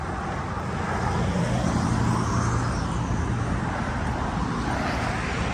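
Steady dense roar of cars driving along a busy city road in Fortitude Valley, continuous broadband traffic noise close by with no breaks or distinct passes.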